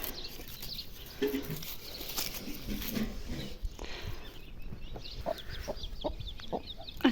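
A mother hen with her chicks in a village yard makes soft, intermittent clucks, close but faint, over quiet outdoor ambience with light rustling.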